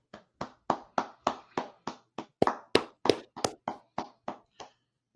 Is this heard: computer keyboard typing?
no